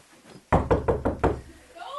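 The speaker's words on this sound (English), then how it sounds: "I just knocked on her door" Five firm knocks land on a bedroom door in an even rhythm, close and loud, followed by faint voice sounds at the end.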